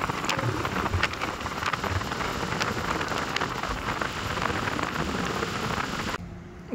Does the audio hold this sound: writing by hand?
no